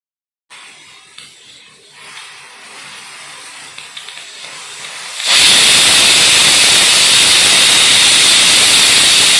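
A pressure cooker cooking horse gram lets out a loud, sustained hissing whistle of escaping steam that cuts in abruptly after a quiet stretch of faint kitchen sounds and continues unbroken to the end.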